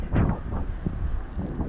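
Gusty wind buffets a microphone outdoors in a park in Maine on a chilly autumn evening, a low roaring rush with irregular swells, no talking.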